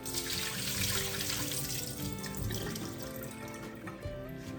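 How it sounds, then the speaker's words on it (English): Cold tap water runs steadily into a sink as potatoes are washed of starch and drained, a close, continuous splashing rush that eases slightly toward the end with no voices. "Wash the starch off of these potatoes."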